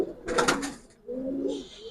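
Hurricane pigeons, a breeding pair held in hand, cooing in low throaty bursts, with a brief rustle or clatter early on and a second rolling coo near the end.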